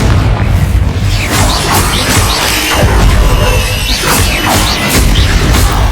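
Confringo fire spell bursting in Hogwarts Legacy, a loud continuous roar of blasts and crackling debris that keeps booming for several seconds with no talk.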